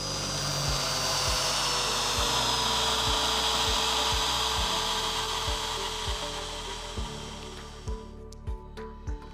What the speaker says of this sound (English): you will hear the speed of the motor dip in.